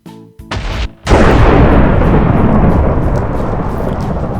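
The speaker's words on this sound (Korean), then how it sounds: "번개 한번더 맞아봐라" A lightning strike from a Minecraft TNT mod hits with a sharp crack, then a massive booming thunder roll that stays loud and slowly fades over several seconds, close and alone.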